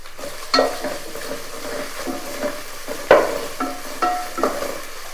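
Fenugreek seeds fry in hot oil for a Tamil coconut milk rice and fish gravy, a steady close sizzle broken by several sharp stirring scrapes and taps of a utensil against the pan, with no talking.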